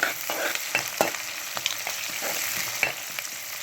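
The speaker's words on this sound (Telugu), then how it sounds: "ఉల్లిపాయలు, పచ్చిమిరపకాయలు, టమాటోలు వేయించేసుకుంటున్నాము." Onions, green chilies and tomatoes fry in oil with cardamom, coriander seeds and black pepper for a cauliflower masala curry, a steady close sizzle broken by the light scrapes and clicks of stirring, with nobody talking.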